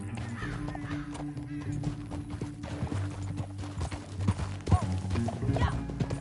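Quick, steady horse hoofbeats clatter in the video game Red Dead Redemption 2, under a busy background, with a short neigh-like cry partway through.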